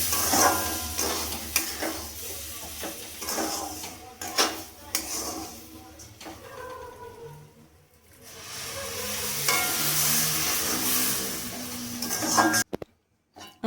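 Semolina upma being stirred in a pan while water is added bit by bit, giving scraping, sizzling kitchen sounds with soft bubbling that pause briefly midway and cut off at the end.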